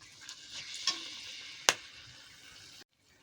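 Whole spices tempering in hot oil for a Bengali doi rui fish curry: bay leaf, two dried red chilies, four or five cardamom pods, two cloves and a cinnamon stick. A steady sizzle with two sharp crackles, then it cuts off abruptly.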